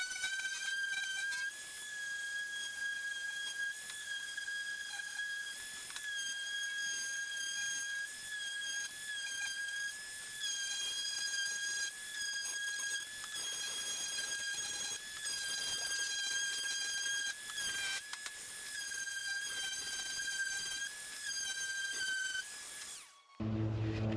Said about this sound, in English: we're gonna sand them down real quick with some 220 sandpaper